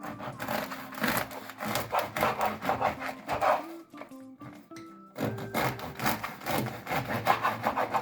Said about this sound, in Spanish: Mientras tanto vamos a ir cortando y preparando el pan.